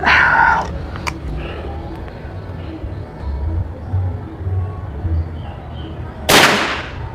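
A sharp, loud crack of a 1400 fps air rifle shot rings out near the end, with a quieter burst at the start and faint outdoor background between.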